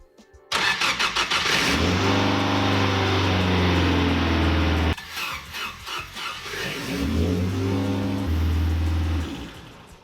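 A loud race car engine cranks and fires up, roaring and revving hard, cuts out briefly, then restarts and revs again, close by; the engine has an oil leak.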